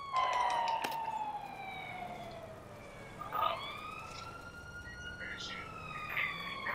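An ambulance siren in the video game GTA V wails with gliding, falling then rising tones, fairly close and steady, while a voice talks over it.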